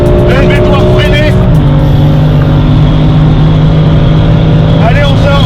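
A BMW M4 at full throttle on the Nürburgring, heard from inside as a loud, continuous engine roar with rising pitch and brief shifts, and someone speaking over it.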